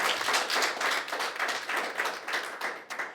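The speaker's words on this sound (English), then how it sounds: "So round of applause for David Cuddy" Audience applause for David Cuddy at a fundraising draw for a retro VW camper, a steady wash of many hands clapping, moderately loud and continuous throughout with no voices.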